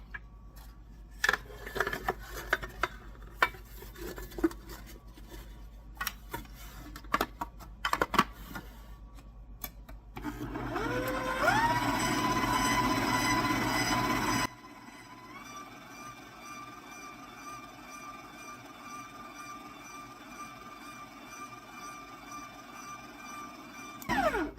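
Cookie dough for Easter Peanut M&Ms cookies gets mixed: scattered clicks and knocks give way to a steady electric mixer whir that shifts pitch and then continues more quietly.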